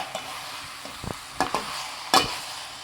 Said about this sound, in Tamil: ஒன்றா சேர்த்து மிக்ஸ் பண்ணி விட்டுருங்க